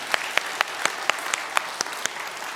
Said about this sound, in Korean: 우리 감사의 박수 한번 할까요?